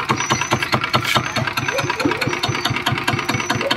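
Rough, rattling Zanma NS 65 motorcycle engine chugging steadily at close range, a fast uneven putter with a busy mechanical clatter and no voices.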